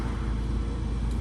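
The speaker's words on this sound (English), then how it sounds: "If you hear noise, I'm on a busy street," Steady low rumble of traffic on a busy street beside a food truck, continuous and fairly quiet, with no distinct passing vehicle standing out.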